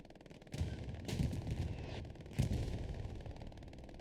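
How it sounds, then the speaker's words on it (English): Panzer IV medium tanks trade fire in a Hell Let Loose battle: several sharp, booming cannon shots ring out at irregular intervals over a dense rattle of distant gunfire and battlefield rumble. "Medium tanks getting into a bit of a bout right here."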